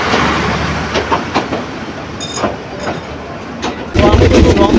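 Kurigram Express local passenger train running, a steady loud rumble of carriages with rhythmic wheel clatter and faint squeals, heard from on board, swelling louder near the end.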